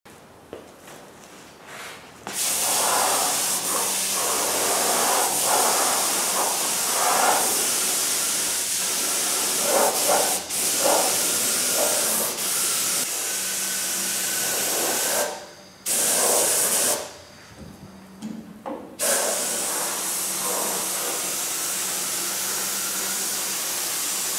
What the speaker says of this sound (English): So next is to spray the primer.